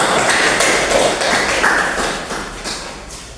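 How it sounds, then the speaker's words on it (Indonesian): A primary-school classroom gives a group a round of applause: scattered claps ring out and then taper off toward the end. "Berikan aplaus buat kelompok 2."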